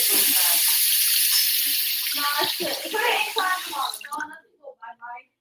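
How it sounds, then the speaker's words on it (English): Cold water runs from a tap over a plastic bottle: steady hissing flow that changes to uneven splashing and gurgling toward the end, then stops, leaving a few short bursts, close to the microphone. "let me run some cold water over and see if anything happens."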